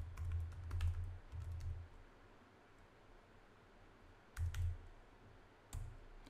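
A computer keyboard is typed on in short bursts of soft, quiet keystrokes separated by pauses, with a faint background hiss.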